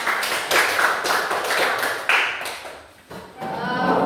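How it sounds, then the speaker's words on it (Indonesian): Group of participants clapping at an Indonesian classroom-style session, several bursts of hand claps in uneven rhythm, moderately near, easing off before a voice comes in near the end. "Tepuk tangan."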